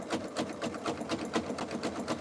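A sewing machine stitches steadily in fast, even rhythmic bursts, close and clear with no talk, while piecing a jelly roll rug from fabric strips.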